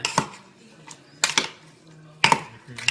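Papaya salad with lime and dried shrimp is pounded in a mortar, giving four separate knocking thuds with clattering edges at an irregular, unhurried pace in a quiet kitchen.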